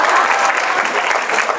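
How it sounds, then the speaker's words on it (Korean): A talk-concert audience claps steadily in a dense, continuous burst of applause, close and fairly loud throughout. "박수 한번 쳐주시죠."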